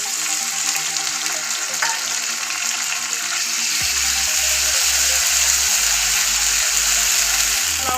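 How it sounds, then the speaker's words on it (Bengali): Chopped tomato frying with ground spice paste, a steady loud sizzle and hiss close by, with a low rhythmic hum joining partway through. "টমেটোটাকে একটু লাল করে ভেজে নিব।"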